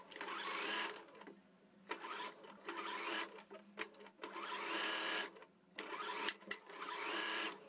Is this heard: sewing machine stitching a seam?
yes